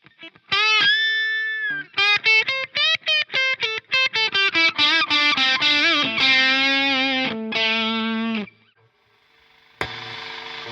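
Electric guitar played through a Walrus Audio 385 Mkii overdrive pedal in regular mode: a series of distorted chords and picked notes, rhythmic stabs then sustained ringing tones, loud and close, ending in a brief pause and one more chord.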